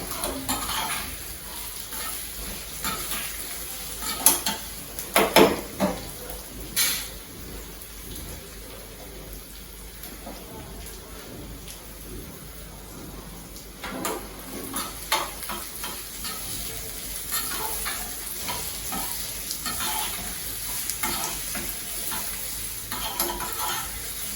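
Onions sizzle and fry in a pan, with occasional stirring scrapes and clinks of a utensil against metal, steady and close.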